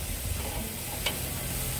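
Parmesan-stuffed ribeye steak searing in a hot pan, a steady soft sizzle with a faint click near the middle, close and fairly quiet with no talking.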